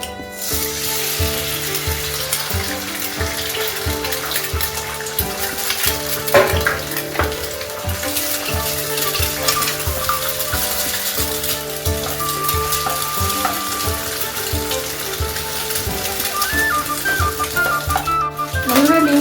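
An egg frying in oil in a pan while cooking chire polao (flattened rice pilaf), a steady close sizzle that carries on evenly without pause.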